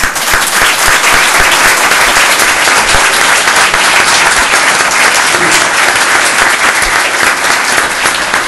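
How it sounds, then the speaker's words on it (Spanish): A large audience at an anniversary ceremony gives dense, sustained applause, loud and steady throughout with no break and no talking over it. "para quienes pido un aplauso"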